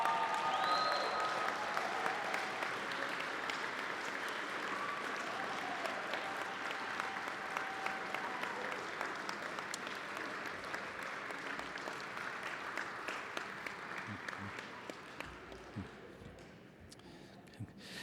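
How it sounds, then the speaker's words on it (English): A standing audience at a college commencement ceremony gives the graduates a long, steady round of applause, a dense wash of clapping that holds evenly and thins out near the end. "please stand and give the graduates another well-deserved round of applause"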